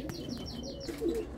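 Pigeons coo softly at an open coop, with low repeated murmuring calls, a few light chirps and a faint flutter of wings close by, without any talk.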